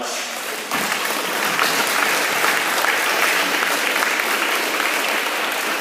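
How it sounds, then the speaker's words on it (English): Applause at a school awards ceremony for student award winners, a full crowd clapping steadily and loudly for several seconds, starting abruptly after a brief quieter moment. "So let's give these kids another round of applause."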